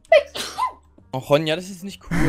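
A single sharp sneeze bursts out near the start, close and loud, followed by a child's chatter in German and more speech.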